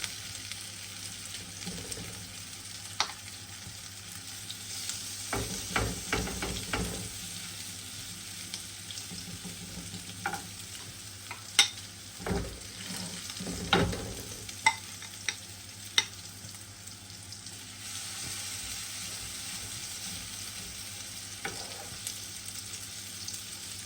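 Chopped cutlets sizzle and crackle in a hot pan throughout, with occasional louder spatters and scraping stirs, and no talking.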